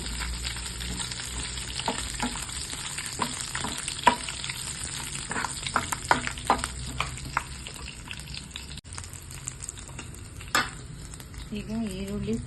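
Cumin, garlic and dried red chillies fry in about three spoons of oil in a pan, producing a continuous crackling sizzle with frequent sharp pops and stirring clatter close by, with speech faintly at the end.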